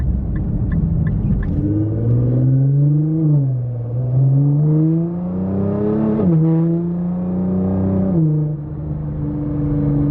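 A Nissan GT-R engine hums and rises in pitch as it accelerates through several gears, each shift dropping the tone before it climbs again, heard from inside.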